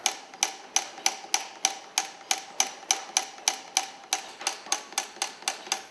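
Mechanical file-cutting machine at Vallorbe, its hammer repeatedly striking a chisel on a file blank: a steady train of sharp metallic taps, roughly three per second, close and clear with no voices.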